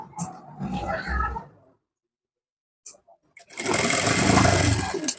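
Sewing machine stitching a blouse runs in a loud, steady mechanical whir for the last two seconds, after a stretch of nearby talk and a silent pause.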